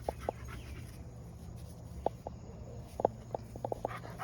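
A dog in a home vegetable garden gives faint scattered sniffs, pants and small clicks over steady low background hum, with no talk.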